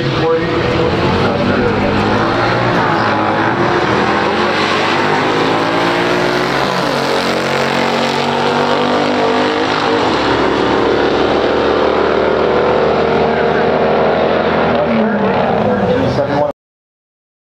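A 1965 Corvette with a 396 engine runs hard at a stock drag race, a loud continuous roar with rising and falling engine pitch for about sixteen seconds, close and dense, then cutting off abruptly.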